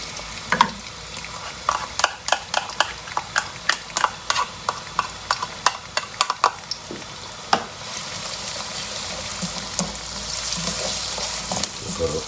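Chopped onions fry in hot oil for a Pakistani-style lamb brain dish, with a steady sizzle under a run of sharp, regular spatula scrapes and clinks against the pan, the stirring easing off in the final seconds as the hiss carries on alone.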